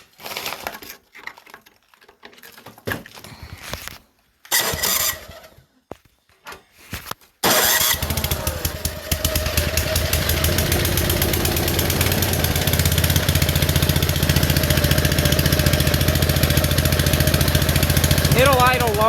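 An old Ariens machine's small engine is cold started, first with broken sputtering and cranking bursts, then catches after several seconds and settles into a loud, steady, rough idle that continues to the end.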